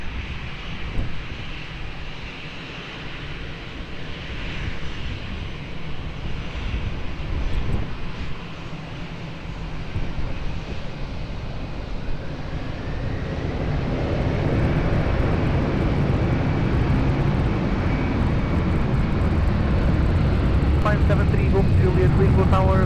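A jet airliner spools up and takes off from runway 20 at Lisbon Airport, its engine roar building from a distant rumble into a loud, sustained broadband thunder, with radio chatter heard early on.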